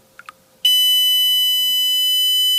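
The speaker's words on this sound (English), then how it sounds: "so it will beep for a certain time interval in case the water is not completely filled" A piercing continuous electronic buzzer from an Arduino water sensor alarm sounds loud and steady after two brief clicks, holding a single tone with bright harmonics until the end.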